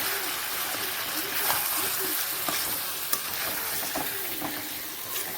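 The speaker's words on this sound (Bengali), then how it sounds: "আমি এখানে মশলাগুলো আমি অ্যাড করে দিচ্ছি এবং এটাকে ভালোভাবে কষাতে হবে মশলার সঙ্গে" Chicken sautéing with spices in a pan, a constant close sizzle broken by repeated stirring scrapes and light clinks.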